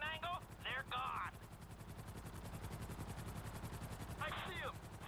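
Helicopters in the video game GTA V drone steadily with a rhythmic rotor chop throughout, while gunfire crackles and shouted voices break in over it.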